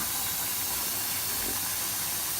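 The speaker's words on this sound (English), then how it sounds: "I'm going to rinse them now." Water runs from a tap as dried soup beans are rinsed, a dense, steady hiss of splashing flow that continues without pause.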